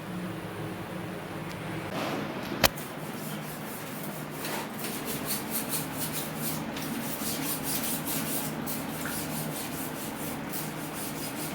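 A brush scrubs the greasy mesh of a kitchen chimney filter, working into the flange, with steady rasping strokes and one sharp knock early on, all at close range with no voice.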